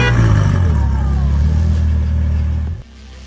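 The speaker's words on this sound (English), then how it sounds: "A Ferrari 812 driver accidentally stepped on the gas pedal, resulting in an instant crash near the lake gardens." A Ferrari 812 engine roars loud and steady under hard acceleration, with a deep rumble that cuts off abruptly near the end in a crash.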